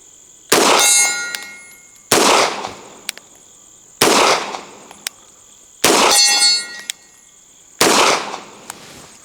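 Five pistol shots from a CZ P09c, fired double action and spaced roughly two seconds apart, each a sharp crack with a ringing metallic clang as steel silhouette targets are struck at a distance.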